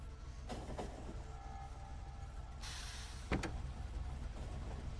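A train in the video game Factorio runs along its track with a faint, steady mechanical rumble, a soft whooshing swell partway through and a sharp click shortly after.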